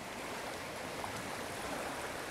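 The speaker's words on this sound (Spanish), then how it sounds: "así está el río Cañobralejo a estas horas de la mañana de hoy" The Cañobralejo river, somewhat swollen in the morning, flows as a steady, broadband rushing wash, continuous and fairly faint, with no voices.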